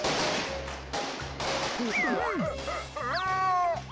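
Fireworks in an animated cartoon movie burst in sharp repeated bangs, followed by rising whistling streaks and crackles, loud and close, with no speech.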